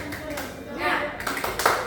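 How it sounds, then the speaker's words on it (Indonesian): Classroom of primary school children doing a rhythmic 'tepuk semangat' clap chant, a few sharp hand claps mixed with chanting voices, close and lively. "Tepuk semangat"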